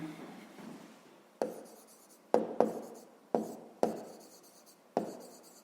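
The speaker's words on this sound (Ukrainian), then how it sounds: "Записуємо тоді за умовою." A pen scratches out a handwritten solution to a fifth-grade maths exercise, with several short, distinct strokes and taps over a quieter continuous scribble. It is close and fairly soft, with no talking.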